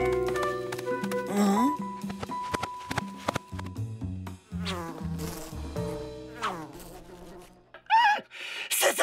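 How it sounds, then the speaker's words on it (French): Cartoon bees trapped inside mail sacks buzz in a thin, wavering drone, mixed in with busy orchestral music that plays loudly throughout. "Ces abeilles se sont enfermées dans ces sacs."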